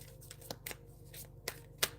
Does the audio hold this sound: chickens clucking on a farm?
no